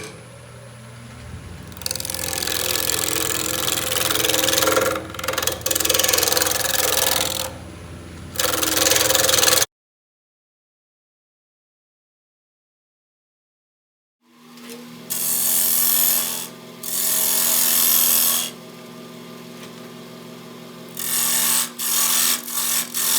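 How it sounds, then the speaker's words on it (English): Wood lathe turning a driftwood bowl with a 1/4 inch bowl gouge, a steady close scraping hiss of cutting that stops for several seconds of silence, then resumes with rhythmic bursts. "Using my 1/4 inch bowl gouge,"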